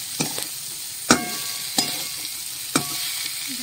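Poppy seed paste is stirred into frying vegetables in a wok, with four sharp scraping stirs over a steady soft sizzle.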